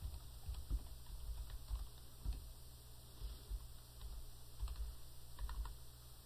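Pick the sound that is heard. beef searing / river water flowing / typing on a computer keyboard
typing on a computer keyboard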